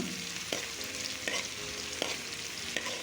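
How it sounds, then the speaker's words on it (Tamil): Onions and garlic sautéing in a pan, with a steady sizzle of frying throughout and four soft spoon scrapes at a slow, even pace. "இப்போ நம்ம வெங்காயம் சேர்த்துக்கிறோங்க. இது நல்லா வதக்கி விடுங்க."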